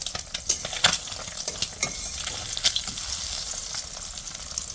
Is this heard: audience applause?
no